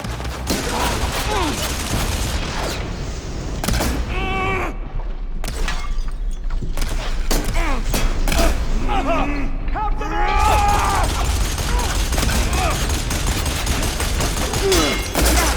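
Rapid, sustained gunfire in the game Horizon Forbidden West, loud crackling volleys of shots throughout, mixed with shouted voices and mechanical clatter.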